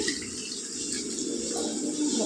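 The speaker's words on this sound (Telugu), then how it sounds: "నీళ్ళు వేసుకుందామండి" Water is poured into a hot pan of chana dal and raw banana curry, making a steady, loud rushing splash that runs unbroken throughout.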